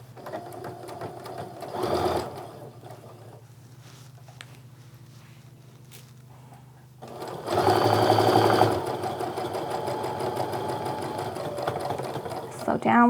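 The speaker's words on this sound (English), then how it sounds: "So now when I sew this, I'm going to sew just to the right side of where all those points come together" A sewing machine runs a seam on a quilt block, whirring steadily in short bursts, stopping, then stitching again at a louder, faster pace, close up and alone.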